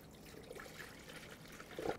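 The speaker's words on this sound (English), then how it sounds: "Now it's gonna be time to fill the coolant" Coolant trickles and pours quietly into the radiator opening of a Dodge Ram pickup, with a soft gurgle near the end and no talking.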